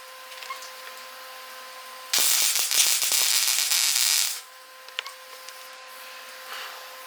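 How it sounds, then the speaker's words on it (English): A burst of harsh crackling buzz from spot welding on a 1971 Honda SL70 motorcycle lasts about two seconds, loud and close, between quieter stretches with a steady hum and a few light clicks. "A little spot weld down there."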